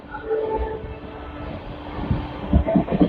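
A train runs along the Pamban route toward Rameswaram and Tambaram, with a steady low rumble of wheels on track and a few heavier knocks and thumps building near the end, close and moderately loud.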